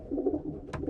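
A breeding pigeon, an older cock bird bred in 2011, gives a low, soft, rumbling coo up close, with a brief rustle near the end.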